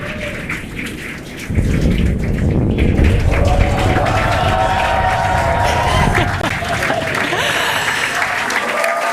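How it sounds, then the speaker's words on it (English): A crowd at a launch viewing site cheers and claps as the Falcon 9 first stage touches down on Landing Zone 1. A sudden loud wall of noise swells in and holds, with a rumble underneath and whistles and shouts riding over it. "the crowd here is excited to see Falcon 9 touch down on landing zone 1"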